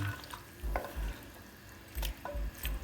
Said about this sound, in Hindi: इसको मैंने 10 से 15 मिनट तक इसको मसाले में भून लूँगी अच्छे तरीके से, यानी कि मैं इसको फ्राई कर लूँगी।